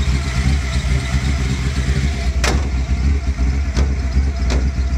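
A 1981 Chevrolet C10 squarebody pickup engine with a gear drive runs loud and close, holding a steady low idle with a few sharp mechanical clicks near the end.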